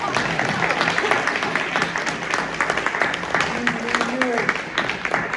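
Panel audience at a talk on race and policing applauding steadily, a dense wash of many hands clapping with faint voices and a brief tone threaded underneath.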